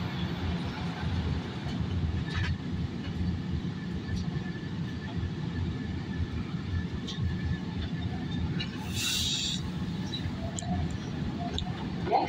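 Market-Frankford Line subway train departing a station and running on the rails, a steady loud rumble of wheels and motors throughout, with faint brief squeals above it.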